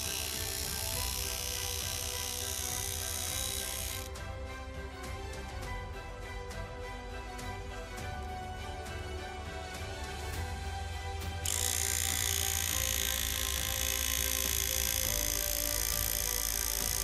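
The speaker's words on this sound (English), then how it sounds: "As you can see, the electric toothbrush works flawlessly." A repaired electric toothbrush runs with a steady high buzzing hum close by, changing tone partway through as it switches mode and then resuming a brighter whine.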